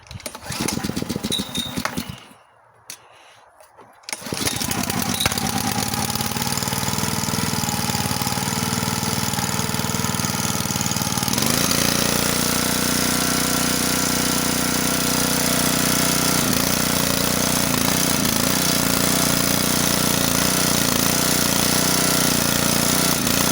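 A wood splitter's small engine, just fitted with a new carburetor, is pulled over and cold-started with the choke on, then catches and runs steadily and loud near the microphone with no talk.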